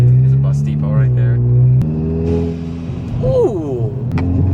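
A Volkswagen MK7 Golf R pulls hard with a loud, close engine note that climbs through the gears, with shift breaks around one and two seconds and a rising surge late on. It sounds from inside the car.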